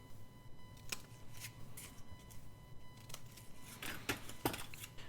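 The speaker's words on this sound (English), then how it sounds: "Just snip them." Scissors snipping the small corners off cardboard ephemera, several crisp, sharp cuts spaced a second or so apart, close and fairly quiet, with light paper rustling between snips and no talking.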